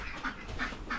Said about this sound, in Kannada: ಸೊ ಇದಕ್ಕೆ ಕೈಯುಗ ಡಕ್ ಅಂತ ಹೇಳ್ತೀವಿ.